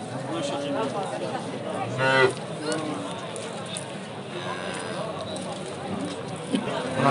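Cattle, cows with calves, moo at a busy livestock market in Dushanbe, one low bellow rising clearly around the middle amid steady crowd noise and someone talking throughout.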